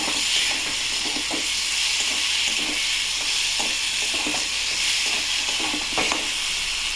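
Prawns sizzle in a hot pan with juices steaming off, a continuous close hiss broken by repeated scrapes and taps of a spoon stirring gently at an even pace.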